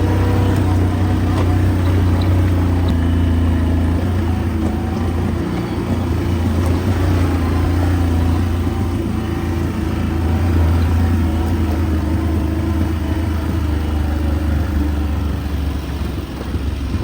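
Quad bike engine pulling hard as it accelerates along a woodland path, a loud, steady motor drone running close and continuous throughout, with faint talk mixed underneath.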